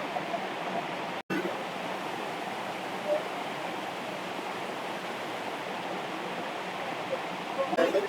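Snowmelt water from a mountain summit flows steadily at the Bogovë oasis in Albania, a constant rushing wash with a brief dropout and a few faint knocks near the end.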